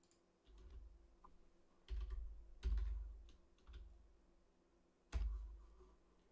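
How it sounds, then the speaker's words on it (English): Fingers type on a computer keyboard in short irregular bursts of clicks, several distinct louder taps spaced through a quiet room with no talking. "Let me type this in."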